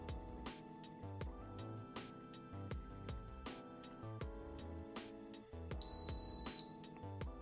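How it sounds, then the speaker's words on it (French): A single high electronic beep from a Blaster Tracer Unit entering diagnostic mode sounds for under a second over quiet background music, clear and close. "le fait d'avoir eu ce bip signifie que le traceur est pleinement fonctionnel"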